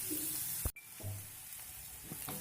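Chopped onions sauté in a hot pan for a brinjal fry, giving a soft, steady sizzle with a brief pause in the middle and occasional light stirring scrapes.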